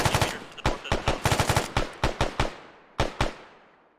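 Rapid automatic gunfire in the video game Arma 3 cracks out in dense bursts of loud, sharp shots, followed after a brief pause by a couple more, each trailing off in a short echo.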